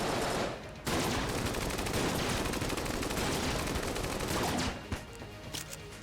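Rapid, dense gunfire from the bullet-hell game Enter the Gungeon, loud and sustained for several seconds before breaking into a few scattered shots as it thins out.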